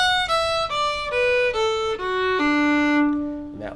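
Solo fiddle plays a descending phrase from the old-time tune The Eighth of January, with several bowed notes stepping downward and a longer held final note, close and clear with no talking.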